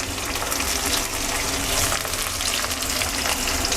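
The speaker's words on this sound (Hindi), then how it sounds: "ये हमारा चला गया कैप्सिकम, सही है। ये फ्राई होगा।" Capsicum frying in a hot pan, a dense, steady sizzle and crackle, close and loud throughout with no talking.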